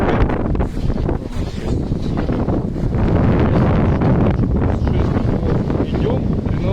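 Strong wind roars and buffets steadily across the deck of a sailboat sailing between Tenerife and Gran Canaria, with gusty rushing noise and no clear talk.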